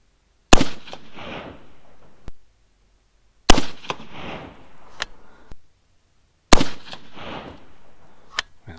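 Three sharp, loud rifle shots from a 6mm ARC AR-15 firing 108 ELD-M reloads, evenly spaced about three seconds apart, each a crack followed by a short rumbling echo outdoors.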